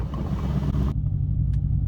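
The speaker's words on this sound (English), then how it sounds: "let's get an exhaust clip of that 4-liter bi-turbo engine." Exhaust from a Mercedes-AMG C63 S Cabriolet's 4-liter bi-turbo engine, a close, loud low growl at idle that holds steady, with a brief sharper blip near the end.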